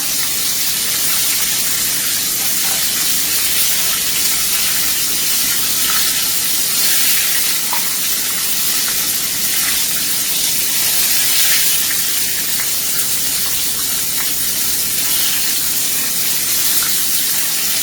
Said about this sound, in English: We're just going to fry them up until they get like a golden brown.